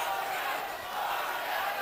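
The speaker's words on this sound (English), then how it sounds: "Vargas supporters behind us chanting for their man." Boxing fans chanting for Fernando Vargas at his 1999 fight against Raul Marquez, a dense, steady wash of crowd voices from a large arena filling the whole stretch without clear rhythm.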